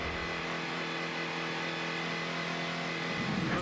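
A NASCAR Camping World Truck Series engine holds a steady, droning idle during a pit stop at Atlanta, loud and close, swelling slightly at the end as the throttle comes up.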